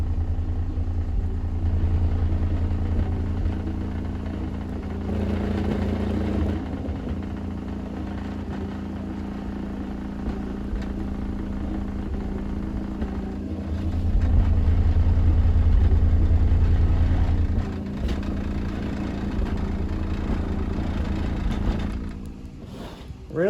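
A new high-output car subwoofer plays a deep 28 Hz test tone, a continuous heavy low rumble swelling louder midway, with a table buzzing and rattling along with it and brief talk over it.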